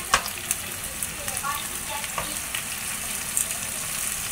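Small kachki fish frying in a pan with oil for a Bengali curry, a steady close sizzle punctuated by scraping stir clicks and spatters, with no voices.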